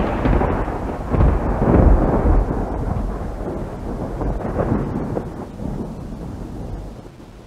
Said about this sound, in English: comes the thunder.